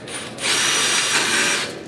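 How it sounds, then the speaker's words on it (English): Milwaukee One Key impact driver driving a fastener in its high-speed, high-torque mode, a brief loud whirring burst close by that rises and then stops. "Now let's drive one in mode 3, which was high speed, high torque."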